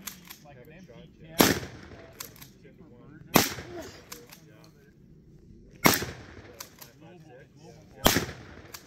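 Gunshots at an outdoor shooting range, four sharp loud reports spaced a couple of seconds apart, each with a short decaying tail, with quiet background murmur between shots.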